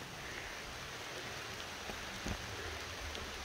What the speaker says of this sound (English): It is rain. It's a good rain right now. Pretty steady.